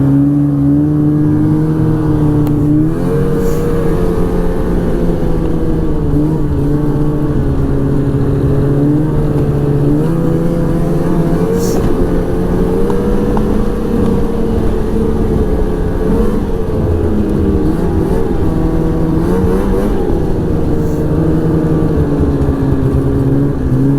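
A 2006 Ski-doo Renegade 600 SDI snowmobile on a test drive, its two-stroke engine droning loud and steady throughout with the pitch climbing and dipping as the throttle changes.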